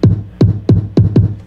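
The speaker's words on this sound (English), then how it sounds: "So when you put the kicks in there, which sound like this" Five punchy electronic kick drums hit in a quick, slightly uneven rhythm, each a loud thump with a sharp click and a short descending boom, heard alone without talking.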